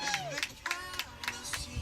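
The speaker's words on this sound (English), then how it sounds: "Emma Rising gets an ovation from the cheering section over here to our left" Scattered clapping and cheers rise from a softball crowd's cheering section at a girls' game between Berea and Powell County, in quick uneven bursts with a voice talking alongside.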